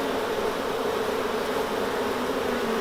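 Some forty thousand honeybees at dusk, being moved into a new hive, make a dense, steady, loud buzzing hum that holds unbroken throughout, with no voices.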